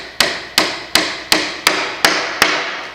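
A little hammer taps a copper nail into a piece of timber, seven light, sharp, evenly spaced taps, close and clear with nothing else heard.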